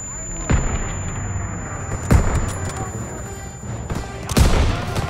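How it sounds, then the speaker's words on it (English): Call of Duty WW2 battlefield with three heavy, booming blasts spaced a couple of seconds apart, like grenade explosions, over constant rumbling gunfire and distant combat noise. "Toss it out, a grenade."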